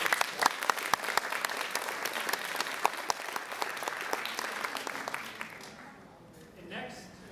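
Seminar audience applause at a career-paths event, with a crowd clapping steadily and evenly for about five seconds before it fades out to near silence.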